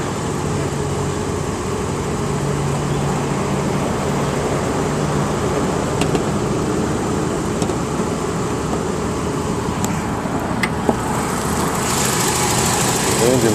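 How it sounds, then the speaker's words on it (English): A regular-cab 1992 Toyota pickup truck engine idles steadily and continuously nearby, a low, even running hum with a few faint clicks and no spoken voices. "The engine running here, you can see."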